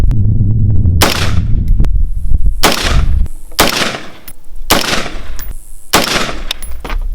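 Six loud, sharp gunshots from a 10.3-inch MK18 pistol firing Hornady Critical Defense ammunition crack out at a steady, deliberate pace of about one per second, each with a short echoing tail.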